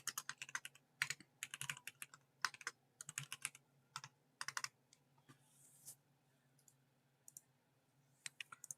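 Rapid bursts of keystrokes on a computer keyboard, typed in quick clusters with short pauses, close and fairly quiet, with no talking.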